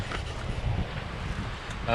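Wind at sea buffets a sailboat in a continuous low, rumbling rush that roars across the microphone, and a brief voice breaks in right at the end.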